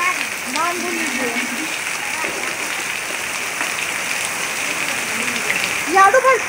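Steady rain falls over a village, a constant close hiss of water on surfaces with people talking over it and birds chirping briefly near the end.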